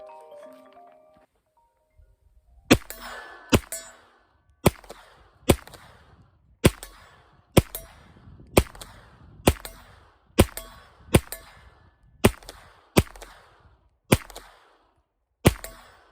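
Suppressed-sounding AR-9 carbine firing 9mm rounds at steel targets outdoors, around thirteen sharp cracks spaced roughly a second apart, each trailed by a brief ring and echo, with faint rustling before the first shot.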